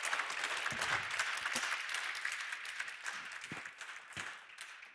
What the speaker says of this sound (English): Thank you, and big round of applause.